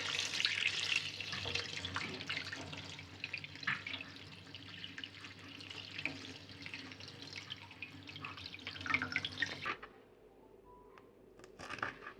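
Cut potato and carrot pieces rinsed in water for potato piyaji, with running and splashing water close by that is busy at first and then goes quiet near the end.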